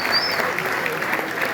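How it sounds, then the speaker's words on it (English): Audience applause at a graduation ceremony, a brief even wash of clapping heard from a distance with a faint background murmur. "A round of applause for Business Services."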